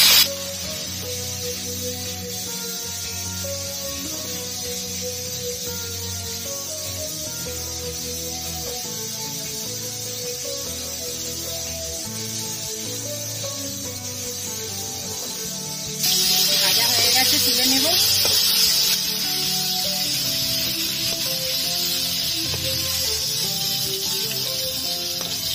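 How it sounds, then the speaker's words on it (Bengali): Prawns coated in salt and turmeric fry lightly in hot mustard oil, giving a steady, even sizzling hiss throughout that swells louder for a few seconds partway through. "নুন হলুদ মাখানো চিংড়ি মাছটা হালকা ভেজে নেব"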